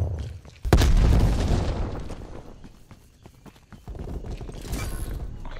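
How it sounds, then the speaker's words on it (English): A frag grenade explodes in Call of Duty: Black Ops Cold War, a sharp loud boom that fades over a couple of seconds, followed by lighter game noise and another rumble toward the end. "Sent him frag grenade."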